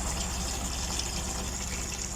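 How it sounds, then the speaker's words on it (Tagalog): Water pours steadily into a bucket, giving a continuous close rushing and filling sound with no breaks. "Maglagay ako ng tubig sa bucket or balde."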